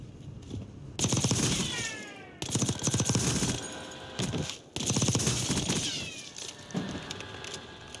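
Submachine gunfire in Black Ops 6, rapid automatic bursts in several long strings with short pauses between, loud and close, no talking.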